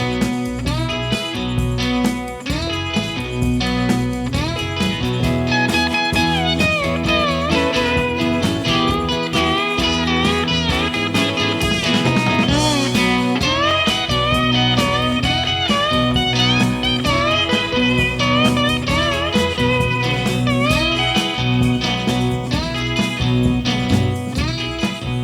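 Full-band rock with a driving distorted guitar riff over steady bass and drums, loud and continuous throughout with no voices.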